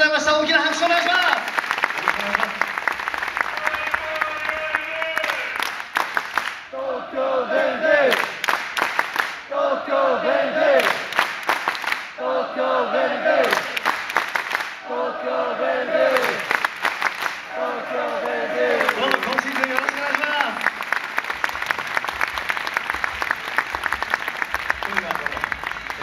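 Audience applause and cheers at a Tokyo Verdy volleyball team fan festival, a sustained clapping crowd that rises and falls in waves across the stretch, with a voice speaking over it throughout.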